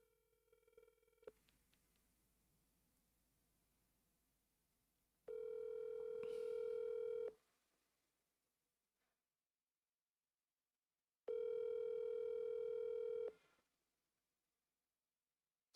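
Unanswered telephone ringback heard during a Tony Hawk's Underground gaming session: two long, steady ringing tones, each about two seconds, separated by a few seconds of silence, loud and clear with no talk over them.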